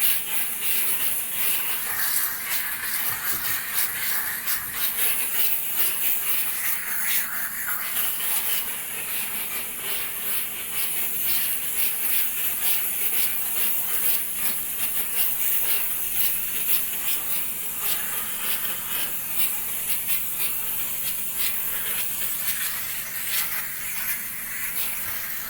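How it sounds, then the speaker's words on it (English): A Chief Steamer unit blasts 125 PSI steam onto a salt-covered car hood, a loud continuous close-range hiss and spray with slight fluctuations across the whole stretch, no voices. "We've dislodged the salt with the steam and the pressure."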